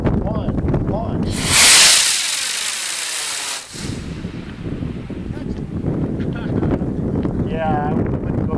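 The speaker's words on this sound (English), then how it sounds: "the turbine rocket saucer is going in 5, 4, 3, 2, 1, launch" A model rocket turbine saucer on six Estes D-11P motors launches with a sudden loud roaring hiss that lasts about two seconds and cuts off abruptly, with wind noise and people talking before and after.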